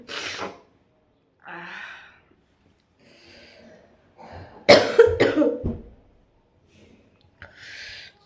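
Several separate coughs from one person with a sore throat, close and dry, spaced out with pauses between them and a louder cluster midway, in a quiet room.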